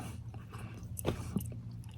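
Someone chews gum close to the mic, giving soft, wet, irregular chewing and clicking mouth sounds over a steady low background hum.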